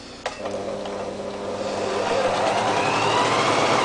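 A sewing machine runs a seam along the armhole of a cosplay bodice, its motor whirring steadily and climbing gradually in speed and loudness, close by with no talking.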